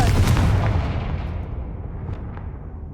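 Confringo blasting spell going off in Hogwarts Legacy: one loud, deep explosive boom at the start, with a long rumbling decay that fades over about three seconds.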